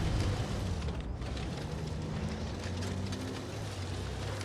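A tank's ammo rack detonating after a high-explosive hit in WoT Blitz, a sustained loud rumbling roar with crackling debris that fills the whole moment, with no talking.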